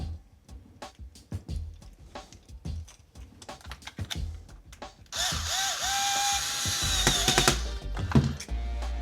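Power screwdriver tightening terminal lugs on an electrical connection for a 50A outlet, with scattered clicks and handling noises followed by a sustained whirring motor burst, close and fairly quiet.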